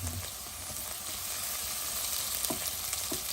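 Ginger frying with onions gives a steady sizzle with broadband hiss throughout, a few soft clicks of stirring poking through near the end.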